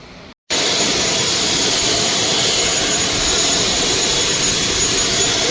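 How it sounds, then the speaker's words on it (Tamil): A passenger jet taxis after landing at Jaffna airport, its engine roar loud, close and steady, a broad continuous rush after a brief gap at the start, with no voices. "இப்போ வந்து ஃப்ளைட் வந்து லேண்ட் ஆகிட்டு லேண்ட் ஆகி இப்போ வந்து கொண்டு இருக்குது"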